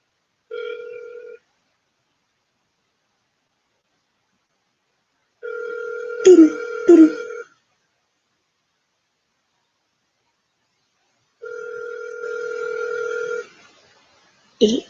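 An outgoing phone call rings back three times, each a steady electronic burr of about two seconds separated by long silences, close and clear, with a brief thump of handling in the middle ring and a cut-off at the end.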